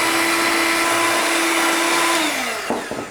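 An electric beater whirs steadily while creaming butter and sugar for cream wafers, a loud sustained motor whine that holds its pitch and then slows down, ending in a few bumping clatters.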